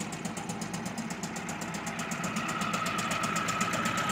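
A vintage 1966 Mercury 39 outboard motor runs at a steady idle, a close, even, rhythmic putter with a slight rise in level toward the end.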